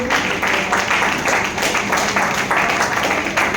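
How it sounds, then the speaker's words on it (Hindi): An audience at a speech event claps continuously, a dense, even wash of applause with a mild rhythmic pulse throughout. "जोरदार ताली, ढंग से ताली की कमी है, जोरदार ताली होना चाहिए"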